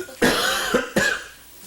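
Two loud, close coughs, each a harsh burst trailing off, the second following less than a second after the first.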